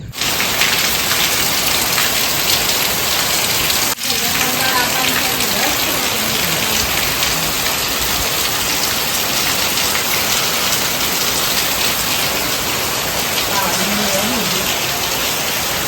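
Heavy rain pours down outdoors in a sudden downpour, a loud, dense, continuous hiss of drops close by with a faint voice briefly underneath.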